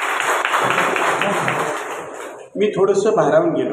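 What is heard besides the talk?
audience applause at a lecture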